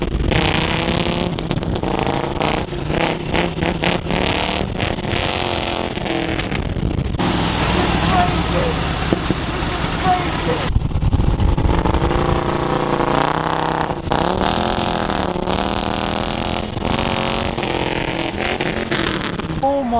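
A gold Harley-Davidson motorcycle rides along with a steady engine rumble that swells and revs several times, the sound loud and close throughout while someone talks over it.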